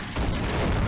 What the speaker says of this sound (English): I'm gonna go ahead and blow up one of these barrels